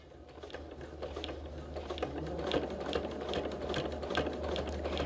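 A sewing machine fitted with a walking foot quilts a spiral square, giving a steady, fast run of rapid stitching clicks over a low motor hum, fairly close and continuous throughout with no talk.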